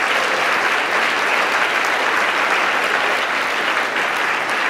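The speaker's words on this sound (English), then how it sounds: "So a round of applause for all my friends." Audience applause fills a PEN America award ceremony, a loud, dense and steady wash of clapping from a large crowd that holds at full level for the whole stretch with no voices over it.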